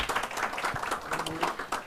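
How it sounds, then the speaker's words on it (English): A live audience applauds at a book talk, with steady dense clapping throughout that sounds near and moderately loud and carries a faint murmur of voices. "Let's give Alex another round of applause"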